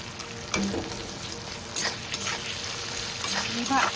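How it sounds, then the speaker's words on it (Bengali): Onion frying in a pan with garlic, cumin and ginger paste going in, a steady sizzle with a few stirring scrapes, close and moderately loud with no talk. "পেঁয়াজটা একটু ভাজাভাজি হয়ে গেলে এখন এই রসুন দিয়ে দেবো"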